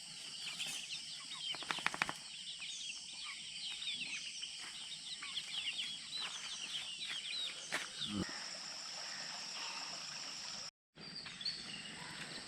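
Outdoors near a waterfall in Theni District, chickens flap their wings in bursts as they are let loose, with birds calling over a steady outdoor hiss, followed by a brief silence near the end.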